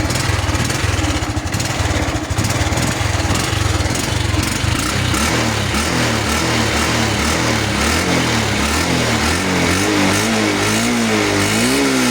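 A used motorcycle engine runs loud and close, revving up and down repeatedly with a throbbing, pulsing exhaust note that rises and falls in pitch toward the end.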